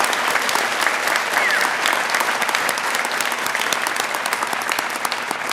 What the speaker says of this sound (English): if you'll help me join in a round of applause